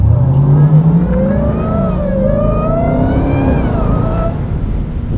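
A Jeep Grand Cherokee Trackhawk SUV engine revs loudly and steadily on a late-night drive, its pitch climbing and wavering as it accelerates, close by with no talk.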